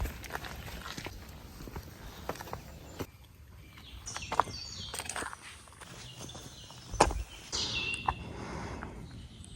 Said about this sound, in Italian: si sentono molto gli uccellini